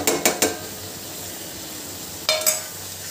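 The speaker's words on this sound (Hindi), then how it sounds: "अब हमें प्रॉपर मसाला भूनकर तैयार रखना है, कंप्लीट भून लेंगे हम मसाले को।" Spice masala of coriander powder, cumin powder and salt sizzles steadily as it is fried in a pan, broken by a few sharp clinks of a spoon stirring against the metal early on and again near the end.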